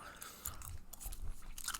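Close, soft chewing of Hubba Bubba Strawberry Watermelon bubble gum, irregular wet smacks and clicks in a quiet setting.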